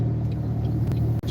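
A car drives along and turns out onto a road, its engine a low steady hum with road rumble inside the cabin, brief and without talk.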